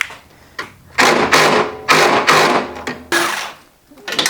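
Ratcheting wrench or driver loosening a bolt on a golf cart bracket, a series of rough, close, rhythmic bursts separated by short pauses.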